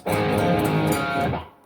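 A distorted electric guitar plays a dense, sustained riff for about a second and a half, loud and close, then cuts off abruptly.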